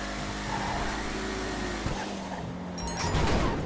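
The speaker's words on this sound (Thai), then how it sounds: "แต่เสียงเปลี่ยนเกียร์นี่ผมชอบมากนะแล้วก็เสียงเทอร์โบนะครับ" An Imponte Arbiter GT sports car engine in GTA V Online roars and revs, with brief dips as gears shift and a whooshing turbo hiss near the end.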